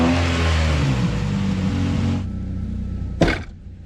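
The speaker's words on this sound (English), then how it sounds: "let the car warm up" A Honda Prelude project car warming up: the engine revs with a loud, droning roar, then drops to a quieter steady idle, and a single sharp knock or clunk sounds near the end.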